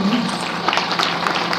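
Audience applause at a ceremony where the chief guest presents mementos to young child artists: a steady, dense clapping texture that holds evenly for a short stretch, with possible voices mixed in.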